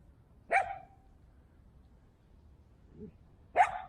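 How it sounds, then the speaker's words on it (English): A small dog on a street in Sarajevo gives two sharp, separate barks about three seconds apart, fairly close, with a faint low sound between them and quiet surroundings. "You gonna bark all day, little doggy,"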